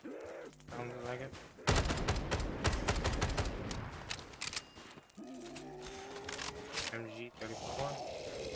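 MG-34 machine gun fired in Black Ops 3 custom Zombies, the Extraction map: a loud sustained automatic burst of rapid shots in the middle, with gameplay sound and music before and after.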